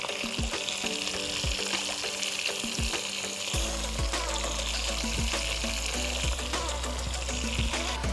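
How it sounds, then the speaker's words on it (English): Onion and meat frying in a pot over an outdoor fire, a steady broadband sizzle throughout with occasional clinks of stirring, close and fairly loud with no talking. "we're gonna cook it out with the onion for quite a while as well."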